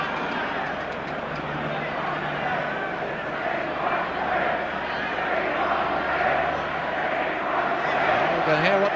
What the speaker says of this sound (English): You can hear what the crowd want.